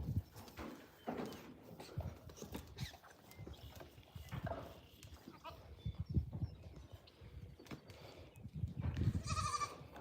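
Goats on a goat farm bleat and shuffle amid scattered thumps and hoof-like knocks, with a louder bleat near the end and bursts of activity throughout, no clear speech over them.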